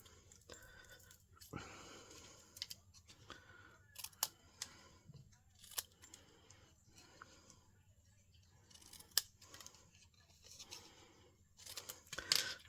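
Scissors snip through paper pieces being trimmed for card making, a scattering of quiet, sharp cuts with soft handling rustles between them, close and faint in a still room.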